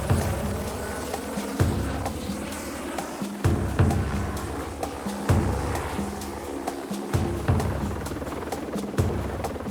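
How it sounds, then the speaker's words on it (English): A helicopter drones steadily overhead while tracking a cheetah in Kenyan bush, a continuous rotor hum with periodic thumps and no voices. "the helicopter locates it from above"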